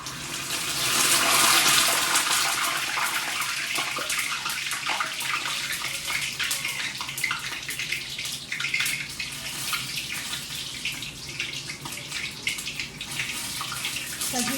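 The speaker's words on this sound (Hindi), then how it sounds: "ऑयल जो है वो बहुत ज़्यादा गर्म है। मैं ज़रा भिंडी डाल लूँ" Okra dropped into very hot cooking oil sizzles and crackles loudly and steadily, a dense bright hiss that swells at first and then holds for the rest of the stretch with no talking.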